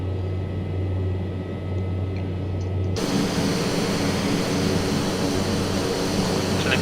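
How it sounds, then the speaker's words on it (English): Twin turboprop engines of a Piaggio Avanti in Microsoft Flight Simulator hum as power is raised, the steady drone jumping abruptly to a louder, broader roar partway through. "So let's increase the power slightly and let's move our beautiful aircraft to the"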